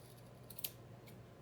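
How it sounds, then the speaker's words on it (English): A single faint snip of scissors trimming a yarn pom-pom for a Christmas winter hat ornament, short and close over quiet room tone. "you're going to trim it so that it makes the pom-pom"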